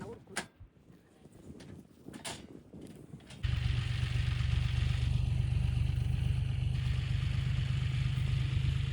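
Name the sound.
tractor engine running in a field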